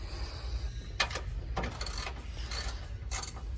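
A ratchet wrench tightens something, several quick bursts of clicking in short strokes, close and fairly clear against a low rumbling background.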